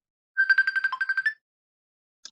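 A mobile phone ringtone goes off during a podcast recording: a quick run of bright electronic beeps repeats for about a second, then stops, leaving near silence before a brief chirp.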